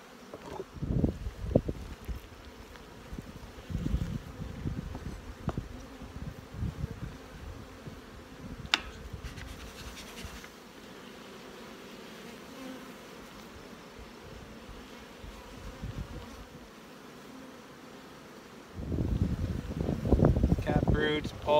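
Honey bees buzz around an open hive during a split, a steady hum mixed with wind noise on the microphone, with some handling bumps and louder rustling toward the end.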